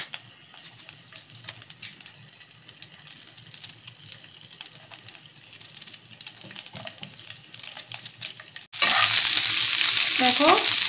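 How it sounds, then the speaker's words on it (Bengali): Chopped onion, red chili and garlic cloves frying in oil, giving a steady close sizzle that jumps to a much louder, dense hiss near the end as the pan heats up or more goes in. "অনিয়ন বা পেঁয়াজ, লঙ্কা বা রেড চিলি আর গার্লিক ক্লোভ এটা একটু তেলের মধ্যে ভেজে নিচ্ছি"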